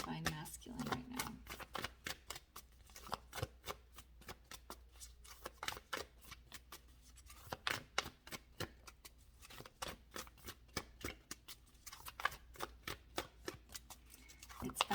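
Tarot cards being shuffled over and over, giving a quick irregular run of crisp riffling snaps and flicks close by, with a person speaking quietly through much of it.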